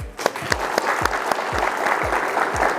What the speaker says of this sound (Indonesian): Tepuk tangan untuk panjenengan ya